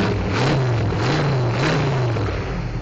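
A 1979 Dodge Warlock II four-wheel-drive pickup truck with an automatic transmission, its engine revved repeatedly up and down in loud, close, rising and falling surges.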